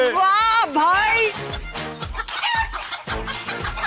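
Chickens cluck and a rooster crows loudly up close during a stunt-show task of catching poultry, with people shouting and cheering over the squawks.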